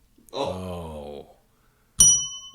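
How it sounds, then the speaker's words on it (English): A bell rings with a single clear ding after a groaning voice, struck during a game of swings; the tone rings out bright and sustained, loud and close, with nothing else over it. "I think you got the bell now, Tin Man."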